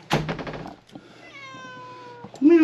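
A cat meows close by in one long, clear, falling cry, preceded by a brief burst of knocking thuds and ending with a short rising voice.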